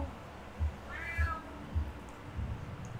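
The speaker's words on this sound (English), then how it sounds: "Can you pet the cat." A cat in the horror video game Last Days of Lazarus lets out a single faint meow, set against a quiet ambience with soft, evenly spaced low thumps.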